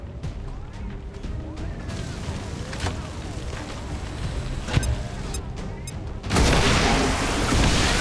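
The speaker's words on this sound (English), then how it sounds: "Grenade." A grenade explodes in the video game XCOM 2, a sudden loud broadband blast late in the clip that rumbles on with debris, following a stretch of muffled game noise, low booms and sharp clicks.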